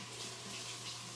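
Tap water runs steadily over an organic cauliflower being rinsed in a sink, a soft, brief splashing stream with no talking.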